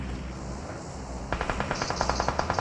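Automatic gunfire in the PUBG video game on the Vikendi map, a rapid string of about a dozen sharp, evenly spaced shots starting partway through over steady background ambience, with no talk.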